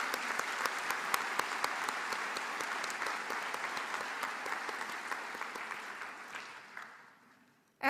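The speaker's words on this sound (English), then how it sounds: "And applaud." Commencement audience at UCLA applauding steadily, a dense wash of many hands clapping that holds for about seven seconds before fading out.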